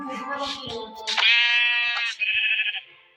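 A synthetic-sounding Minecraft sheep bleats in a long wavering cry after a brief jumble of voices and game noise, loud and close.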